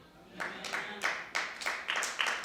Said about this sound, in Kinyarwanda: Nimubakomera amashyi yemwe.